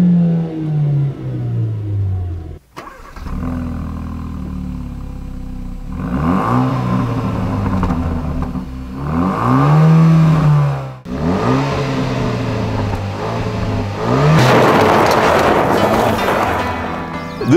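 A 2013 Hyundai Veloster Turbo with a twin-scroll turbocharged GDI engine accelerates hard through several gears, the loud close engine note rising and dropping with each shift, heard from inside the car.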